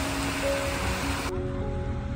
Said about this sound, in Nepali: ल यो है ड्याडी झरना।